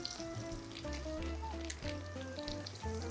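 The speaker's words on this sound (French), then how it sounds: "On va venir rajouter la marinade pour la cuire." Marinade hitting a hot pan for a Christmas dish, sizzling and frying steadily and fairly loud throughout, with layered background music tones running underneath.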